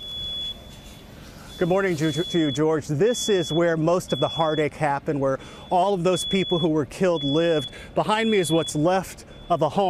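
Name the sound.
fire alarms still sounding in tornado-destroyed home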